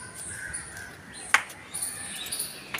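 A single crow caws sharply, close by, over a faint outdoor background with soft distant bird calls, near biscuits set out as bait.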